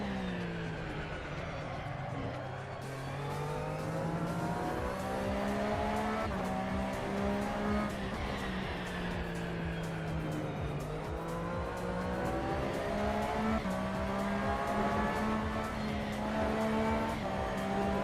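Race cars in the iRacing sim racing game drone with steady, rising and falling engine notes through gear changes, a continuous loud engine sound with occasional tire squeal.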